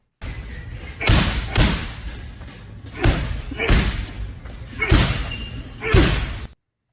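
Heavy boxing punches land with dull, thudding impacts in a steady run of about six blows, loud and close, over a constant background hiss.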